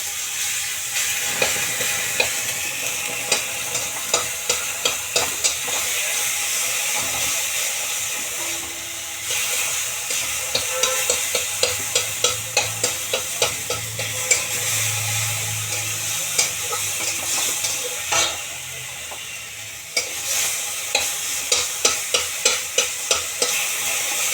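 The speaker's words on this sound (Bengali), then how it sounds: "এবারে দিলাম কালো জিরে, একটুখানি কালো জিরে, কাঁচা লঙ্কা আর সিদ্ধ করা" Nigella seeds, green chilli and boiled tomato fry steadily in a pan, a dense continuous sizzle punctuated by repeated clinks and scrapes of a stirring spoon, with no talk.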